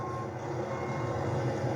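A tow truck backing up outside the Connecticut State Police Headquarters, its reversing alarm sounding steadily under a low engine rumble at moderate distance.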